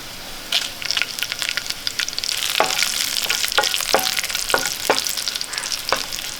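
Cut dried red chillies sizzle in hot oil for a drumstick curry, a close, crackling fry with sharp spatters and stirring scrapes over the steady hiss.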